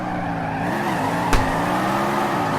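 A car in CarX Drift Racing Online does a handbrake drift, its engine holding a steady whine with a sharp brief skid burst midway, loud and close, with no talk.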